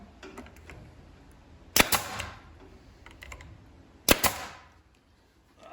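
Brad nailer firing two brads into drawer parts on a table saw build, two sharp, close snapping shots a little over two seconds apart, amid quieter tapping and handling noises.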